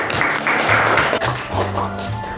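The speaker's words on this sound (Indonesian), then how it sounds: "Kasih tepuk tangan dulu" Classroom students at a high school clap together in a sustained, fairly loud round of applause, with some low voices and background noise mixed in.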